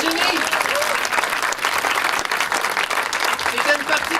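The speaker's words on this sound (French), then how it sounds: "On applaudit Virginie!" An audience applauds warmly and steadily at a local history society presentation, dense clapping filling the room from start to finish with a few voices faintly underneath.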